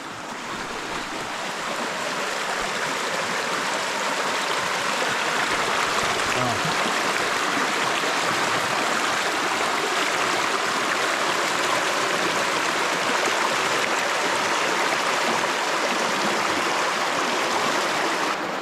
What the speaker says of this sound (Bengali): কি সুন্দর পানির স্রোত এবং পানির শব্দ